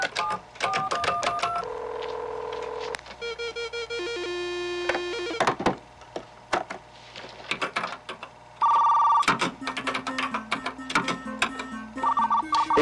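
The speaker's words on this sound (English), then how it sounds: "Dialing into the school's computer." A computer modem dials in over a telephone line: tone-dialing beeps, ringing, then shifting handshake tones, screeches and bursts of static, loud and close.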